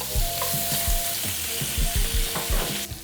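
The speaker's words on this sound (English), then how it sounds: "I'm gonna start by frying our sausages." Sausages fry in olive oil in a pan, a steady close sizzle with soft scraping and stirring knocks, and no talking.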